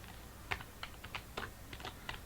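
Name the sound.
typing C code on a computer keyboard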